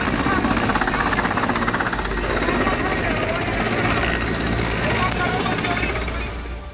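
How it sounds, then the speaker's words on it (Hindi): Helicopter engaged in a flood rescue in Madhya Pradesh, its steady rotor and engine drone holding loud and constant throughout, with voices faintly mixed in. "इसके बाद हेलीकॉप्टर से दोनों को रेस्क्यू किया गया।"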